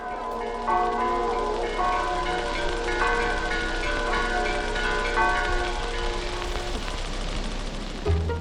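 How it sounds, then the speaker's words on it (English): Bells ring repeatedly in layered, overlapping peals, full and sustained, carrying across open space; a dull thump near the end. "You can hear the bells ringing in the hills."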